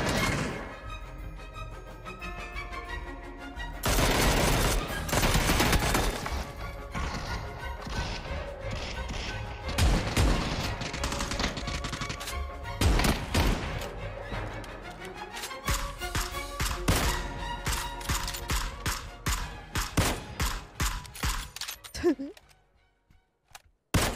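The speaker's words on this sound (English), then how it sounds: "Many blind shots later." Video game gunfire cracks in irregular bursts of sharp shots and thuds, with dense clusters in the middle, scattered single reports later, then a sudden drop to near silence.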